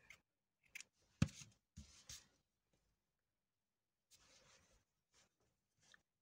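Scissors snip through crochet yarn in a few quiet, separate cuts with brief rustles between them, close up in an otherwise silent room.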